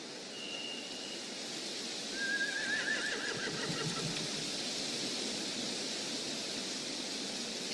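A horse whinnies in The Walking Dead: The Final Season video game, one wavering neigh rising clearly over a constant hissing ambient bed, with faint rumbling beneath and no voices.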